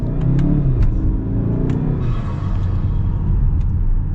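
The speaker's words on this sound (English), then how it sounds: "let me get you guys another acceleration if that hasn't already done it for you guys." A modified turbocharged Mazda CX-5 accelerates in manual mode, its engine a loud, steady rumbling drone heard from inside the cabin, with a few faint clicks over the top.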